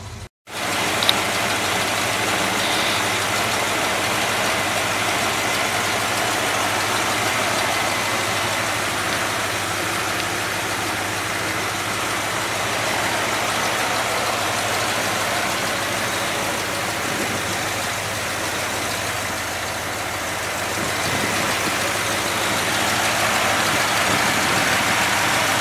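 A 1968 Dodge Coronet engine idles in a steady, continuous low rumble, heard close and unchanging for the whole stretch, with a faint hiss over it and no talking.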